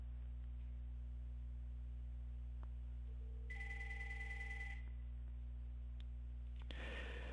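Bria softphone ringing on a computer after a click-to-call, a short electronic tone burst with a bright steady pitch over a low constant mains hum, then a brief clatter at the end; otherwise quiet, no talking.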